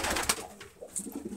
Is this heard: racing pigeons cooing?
yes